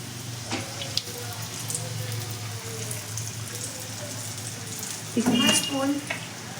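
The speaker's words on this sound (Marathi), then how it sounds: "कमी तेलावरतीच तळायचं जास्त गरम तेलावरती तळायचे नाही" Samosas frying in hot oil, a steady close sizzle running throughout, with a louder burst of bubbling toward the end; faint voices sound briefly in the background.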